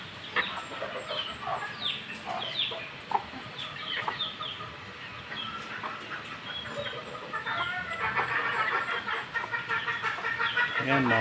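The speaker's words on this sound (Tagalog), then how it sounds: "Yun yung inahin ko mga kabakerd oh." A hen clucks in repeated short bursts among other chickens in a backyard, with rustling and general activity around them, growing busier and louder toward the end; no talking.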